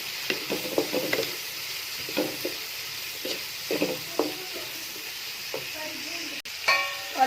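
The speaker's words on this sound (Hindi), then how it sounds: "इसको हम अच्छे से अब करेंगे मिक्स।" Spoon stirring a garlic chutney mixture with crushed red chili and cumin, a series of scraping, mixing strokes with a soft sizzle-like hiss underneath, close and moderately loud, no talking.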